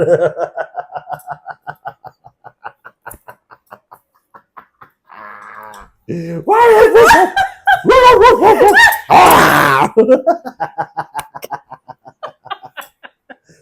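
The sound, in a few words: person imitating a dog barking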